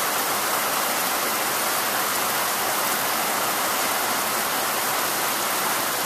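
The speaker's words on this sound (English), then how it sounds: "See the water pouring off the other mobile homes." Heavy rain falls steadily in Huntington Beach, water pouring off the roofs of nearby mobile homes in a loud, continuous broadband hiss with no pauses or talk.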